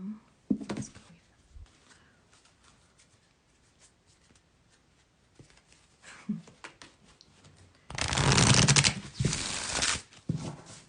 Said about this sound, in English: Oh, that was a good shuffle.